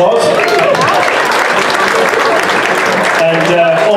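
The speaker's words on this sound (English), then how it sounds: "Give him a big round of applause." Loud, sustained audience applause at a céilí band competition evening, many hands clapping together with a few voices and faint cheers mixed in.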